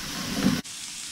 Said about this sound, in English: a reasonable amount of that curry powder. Maybe a tablespoon and a half. Just give that a second to toast.